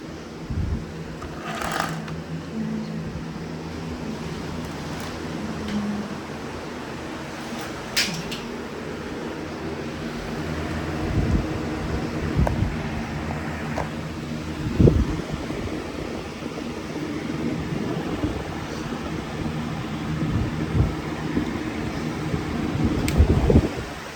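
A Bissell PowerForce upright vacuum cleaner with a newly replaced belt runs with a steady whirring motor hum, broken by a few knocks and rattles as it is handled close by.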